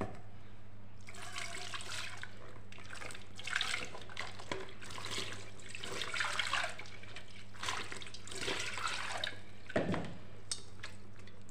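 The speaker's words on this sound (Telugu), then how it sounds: "ఇప్పుడు కడిగి చూద్దాం ఎంత క్లీన్ అయ్యిందో" Tap water runs over a freshly cleaned gas stove part as it is rinsed, a steady splashing wash with uneven surges and spatters throughout, close and fairly loud, with no talking.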